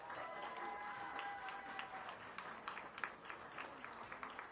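A crowd applauds at a South Carolina primary victory speech, a busy wash of clapping mixed with cheers, moderately distant and steady with scattered sharper claps.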